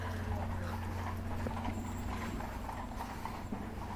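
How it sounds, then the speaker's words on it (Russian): Horses pulling a light carriage clip-clop over cobblestones, a continuous patter of hoof strikes under a low steady hum and distant street noise. "И тоже везде брусчатка. Лошадки."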